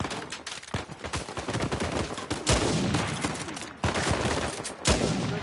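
Rapid gunfire bursts from a firefight in the video game Uncharted 4, loud and dense, with repeated sharp shots and heavier blasts layered over constant battle noise.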